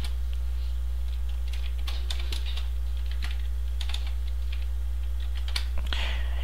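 Rapid keystrokes on a computer keyboard while switching to the super user, a steady run of close, crisp clicks in irregular bursts over a constant low hum.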